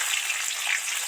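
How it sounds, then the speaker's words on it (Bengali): Rohu fish pieces and fish heads deep-frying in plenty of oil, a loud, dense, continuous crackling sizzle heard up close with no voices. "একটু বেশি তেল দিয়ে অনেকগুলো মাছ দিলে তাড়াতাড়ি ভাজা হয়ে যায়"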